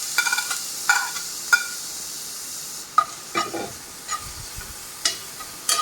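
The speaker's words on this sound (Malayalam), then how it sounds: "ചൂടായ എണ്ണയിലേക്ക് ഈ പച്ചക്കറികൾ അരിഞ്ഞ് വെച്ചിരിക്കുന്ന പച്ചക്കറികൾ ഇട്ട് കൊടുക്കാം." Chopped vegetables fry in hot oil and are stirred, a constant close hiss broken by repeated scraping strokes of a spoon in the pan, with no speech.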